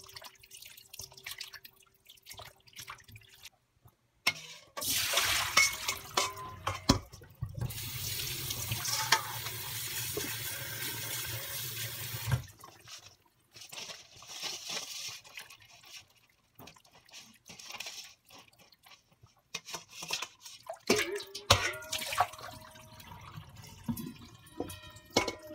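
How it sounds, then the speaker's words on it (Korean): A bowl of cold cooked rice rinsed under a running kitchen tap, a loud gush of flowing water for several seconds followed by quieter swishing, dripping and handling of wet rice. "찬밥 한 공기를 물에다가 한번 헹궈서 말리겠습니다"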